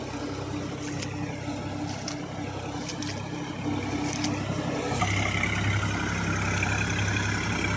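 A New Holland tractor engine drives through deep mud and water with a loud, steady, close drone that swells slightly partway through and continues without a break.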